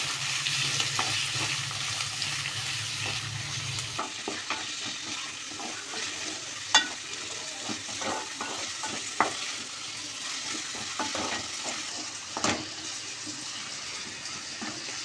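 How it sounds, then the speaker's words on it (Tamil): Small shallots sizzle in hot oil as they are stirred for a Chettinad chicken gravy, a soft steady frying hiss broken by several sharp spoon-against-pan clinks. "பிரித்து வச்ச 100 கிராம் சின்ன வெங்காயத்தை சேர்த்து வெங்காயம் பச்சை வாசனை போகிற அளவுக்கு நல்லா மிக்ஸ் பண்ணி"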